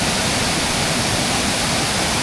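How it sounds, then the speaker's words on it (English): Waterfall at Tad Keo Muong Kout in Laos, a steady broadband roar of falling water, close and loud with no pauses. "the waterfall right behind you"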